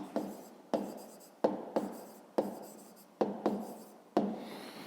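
Pen strokes on paper while working a fifth-grade math exercise by hand, a close series of about eight short scratchy strokes in an uneven rhythm.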